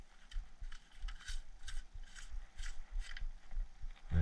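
Metal barrel cap of a Stevens Model 320 12 gauge pump shotgun being screwed back on, giving a steady series of close, small ratcheting clicks and scrapes for several seconds, ending in a louder low thump.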